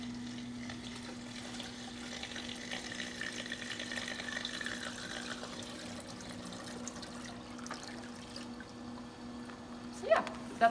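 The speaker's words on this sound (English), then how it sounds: "And then we're going to put in our new water." Clean water poured into a tank, a soft continuous trickle and splash running steadily at low level beneath a constant hum, ending with a couple of small knocks.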